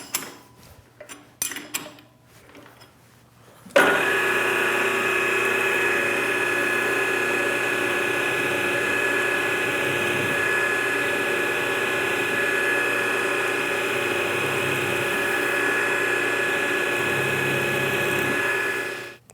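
A PM-940 milling machine drills aluminium with a short aluminium-cutting end mill, holding a steady loud tonal whine with a low hum for about fifteen seconds after a few brief clanks of setup.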